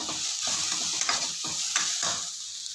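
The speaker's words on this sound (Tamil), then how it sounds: "வெங்காயம் கொஞ்சம் வதங்கட்டும்." Onions and curry leaves sautéing in a pan, a continuous crackling sizzle with repeated rhythmic stirring scrapes of a spoon, near and moderately quiet, no talk.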